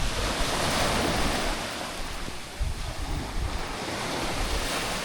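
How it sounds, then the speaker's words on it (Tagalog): Sea breeze and waves at Kahok Dianhok beach resort near Phuket, a constant loud wash of surf with wind buffeting the microphone, no voices. "Ang presko ng simoy ng hangin."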